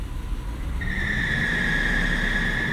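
A vandalized Mercedes 420 SEL engine cranks and catches, then settles into a steady running note with a rising whine, close and fairly loud with no talking.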